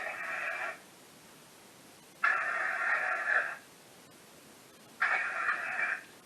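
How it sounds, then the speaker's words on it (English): A ghost-hunting device set to white noise hisses in three loud bursts separated by quiet gaps, the static switching on and off abruptly inside a museum. "we're going to use the white noise setting this time"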